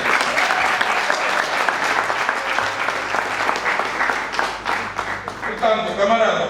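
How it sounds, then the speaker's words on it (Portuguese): Loud, sustained applause from a crowd at a political party election event, dense clapping that holds steady throughout, with voices speaking over it toward the end. "Então isso não merece uma salva de palmas."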